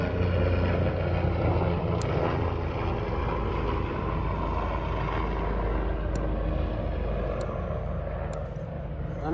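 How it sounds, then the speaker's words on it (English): A helicopter passes overhead outdoors, its steady engine and rotor drone holding loud and continuous throughout with no talk. "There it is, a helicopter flying up ahead."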